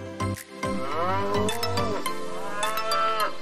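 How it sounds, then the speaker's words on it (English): A cow moos loudly and close, one long drawn-out low call with rising and falling pitch, heard on its own. "Cow."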